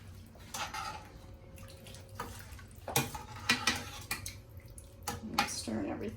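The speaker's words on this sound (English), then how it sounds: "I'm stirring everything good together." Chili is stirred in a pot over high heat, making intermittent scraping and knocking strokes against the pot that come in irregular bursts over a low background.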